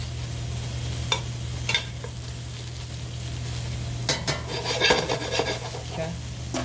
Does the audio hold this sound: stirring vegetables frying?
yes